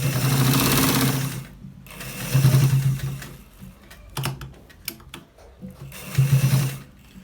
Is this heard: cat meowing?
no